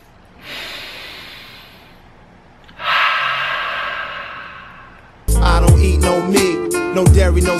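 Heavy breathing, close and alone: two long drawn breaths in a row, then a denser stretch of loud, quick huffing breaths.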